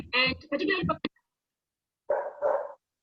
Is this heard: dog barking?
yes